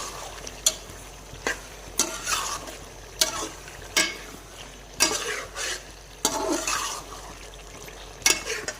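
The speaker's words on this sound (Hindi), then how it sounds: "तो 1 मिनट तक हम मसाले में चिकन को भून लेंगे।" Chicken is fried in spices in a pot for yakhni chicken pulao. A spoon scrapes and stirs in repeated loud strokes over a steady sizzle, and there is no talk.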